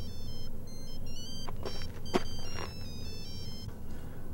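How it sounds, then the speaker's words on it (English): A phone rings in a steady tone amid background noise, with a short sharp clack partway through. "It's started ringing as soon as I dialed David"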